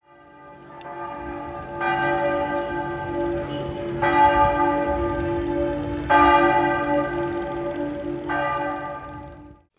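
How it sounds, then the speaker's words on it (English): Church bells toll in loud, ringing strokes about every two seconds, each chime swelling and hanging before the next, with no voices. "Who were the bells tolling for?"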